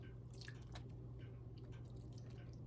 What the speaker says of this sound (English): First of all, I like to pour some of that juice